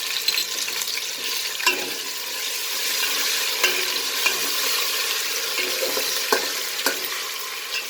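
Onions fry in a pan as ginger garlic paste is stirred in for moong dal khichdi, giving a steady close sizzle broken by repeated scraping stirs of a spoon against the pan.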